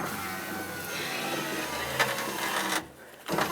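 A rear power window on a 2006-2010 Ford Explorer with a newly replaced regulator runs up and then down with a steady whirring motor hum, ending in a brief stop and a restart.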